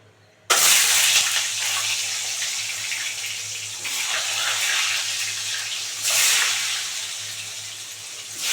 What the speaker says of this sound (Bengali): এবার ডিমগুলো ছেড়ে দেবো বন্ধুরা ডিমগুলো আমি হালকা হালকা করে ভেজে নেবো